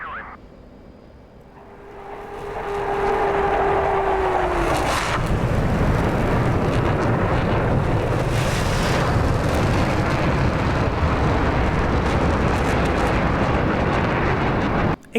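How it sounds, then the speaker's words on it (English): A jet aircraft engine in the DCS World flight simulator spools up from a rising whine into a loud, dense, continuous roar that holds steady to the end, with no talking. "DCS World has the very best sounds of any flight sim out there when it comes to jet aircraft"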